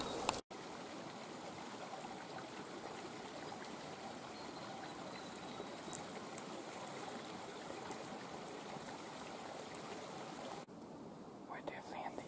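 River water flows steadily as people wade across a river in the bush, a soft continuous rushing and trickling heard close by, with a few faint clicks and splashes.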